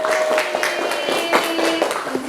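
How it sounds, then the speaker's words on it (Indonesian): Classroom applause breaks out as a group finishes its presentation: a loud, dense patter of clapping hands fills the short moment, with a few voices and whistle-like tones mixed in. "Coba beri tepuk tangan."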